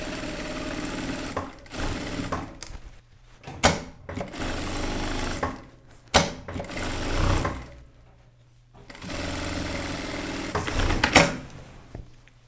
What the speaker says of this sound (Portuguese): Pode alfinetar ou costurar direto